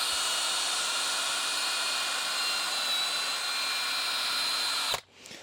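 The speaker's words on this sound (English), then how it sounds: "all 3 holes are drilled" Power drill boring holes while building a fan dipole antenna, a steady loud high-pitched whine running continuously before cutting off abruptly near the end.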